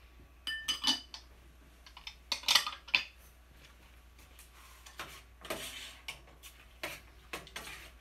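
Pre-made beans being stirred into a pan while cooking tempeh soft tacos, with scattered clinks and scrapes of a utensil against cookware and a faint sizzle underneath, in irregular bursts.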